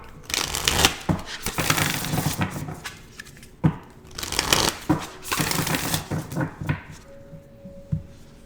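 Oracle cards from an Ancestors and Angels deck are shuffled by hand in bursts of close, papery riffling and soft slaps, with brief pauses between rounds and a faint steady hum near the end; no one speaks.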